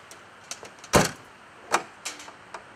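Car door or trunk being shut with a cable locked in, heard as a few short thuds and clunks, one sharp loud slam followed by smaller knocks and clicks close by.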